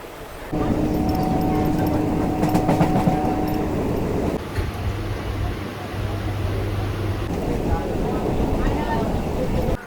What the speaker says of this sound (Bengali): সামনেই দাঁড়িয়ে আছে